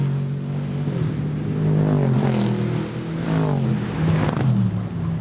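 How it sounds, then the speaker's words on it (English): An Aston Martin F1 safety car drives up the hill at the Goodwood Festival of Speed, its engine giving a deep, loud rumble that swells and recedes as the revs rise and fall, with no talk. "Traffic on the hill, it's the F1 safety car. Listen out for this Aston Martin advantage."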